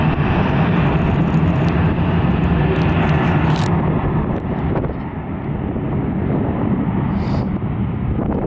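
A CRJ regional jet at Atlanta airport roars past loud and steady, its broadband engine noise filling the whole clip with some wind buffeting on the microphone.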